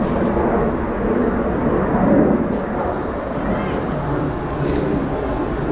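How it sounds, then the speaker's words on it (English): An airplane flies overhead outdoors, a steady, broad droning roar that holds throughout at a fairly loud level without fading away. "Every time I try to film outside, there's an airplane or children screaming."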